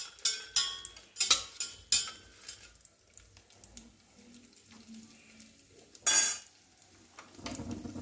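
Spoon scraping and clinking in a pot while cardamom, cashews and raisins are stirred in hot fat for a rice dish, several sharp metallic knocks at the start and again later, with a faint sizzle in between and no talk.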